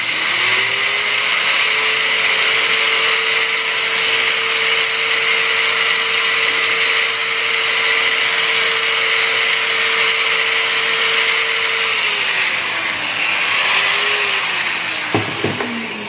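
A drill bit enlarging a hole for a concrete nail during an HP Smart Tank 615 printer repair, running as a steady, loud, close whine for most of the stretch before winding down, followed by a few sharp clicks.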